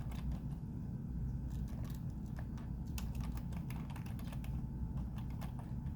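Someone types an email address on a computer keyboard, a quiet, irregular run of close key clicks with brief pauses between bursts, over a low steady background hum and no talking.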